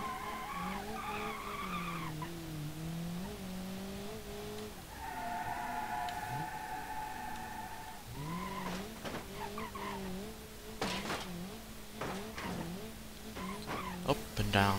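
Tires on a Hirochi Sunburst 2.0 Sport squeal and skid repeatedly in BeamNG.drive as the car loses and regains traction, with a sustained screech midway and engine drone throughout.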